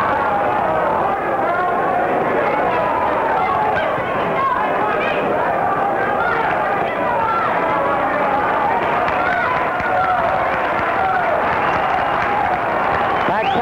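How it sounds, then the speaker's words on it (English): Boxing crowd at the Blue Horizon arena, Philadelphia, applauding the fighters at a 1963 bout: dense, steady roar of clapping and cheering fills the whole stretch, with chatter and voices mixed in throughout. "Back out here at the Blue Horizon applauding the fighters"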